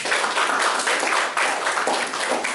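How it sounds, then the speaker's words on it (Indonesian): Applause from a class audience in a classroom at a teaching session, a dense, steady wash of clapping filling the whole span at close range without a break. "Tepuk tangan dong untuk."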